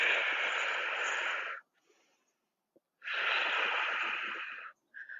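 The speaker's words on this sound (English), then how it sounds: "Deepen your exhales." Deep, breathy exhales during a yoga flow, two long steady outbreaths of about a second and a half each with quiet pauses between, then a short breath starting at the end, close and moderately soft.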